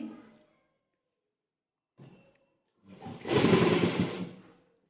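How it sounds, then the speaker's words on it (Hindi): A sewing machine stitching a ladies' pant, with a couple of short stops and starts and then a loud, close, steady run of rapid stitching lasting about a second and a half. "सीधी साइड से हम सिलाई लगाना स्टार्ट करेंगे।"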